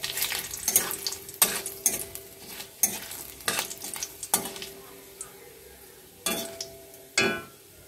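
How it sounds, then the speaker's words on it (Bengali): Whole cumin seeds and a bay leaf crackling in hot oil for tempering, with sharp intermittent bursts of sizzle and spoon-on-pan clinks close by, and quiet gaps between them. "গোটা জিরে দিয়ে দিচ্ছি ফোড়নে"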